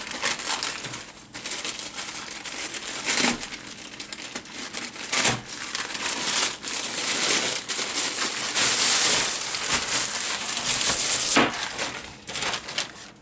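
Plastic mailer packaging from an AliExpress parcel crinkles and crunches close up as it is torn open, with steady rustling bursts and a few sharper crackles running throughout.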